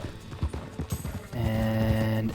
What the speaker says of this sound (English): So we'll just get a nice gallop going here